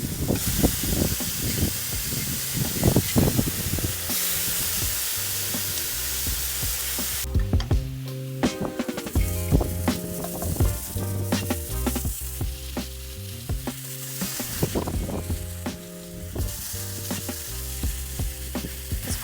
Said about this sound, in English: All right, we're going to flip them over now.